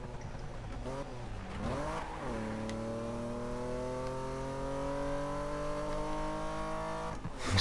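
Volkswagen Golf GTI engine in the racing video game Need for Speed, revving up with rising gear-by-gear tones and a short dip between shifts, then a long steady climb at high revs, loud and continuous.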